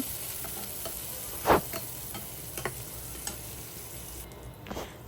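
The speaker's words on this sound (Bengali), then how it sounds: "এখন আমি পালং শাকটা ভেজে নেব দিয়ে দিচ্ছে তেল তারপরে দিয়ে দিলাম পেঁয়াজ কুচি" Chopped onion frying in oil for a spinach dish, a continuous low sizzle broken by a few sharp utensil clicks and scrapes against the pan.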